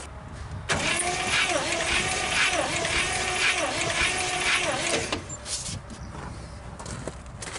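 A 1956 Studebaker Golden Hawk engine cranks over on the starter with the throttle held wide open for a compression check, a steady rhythmic chugging for several seconds before it stops, followed by quieter shop noise.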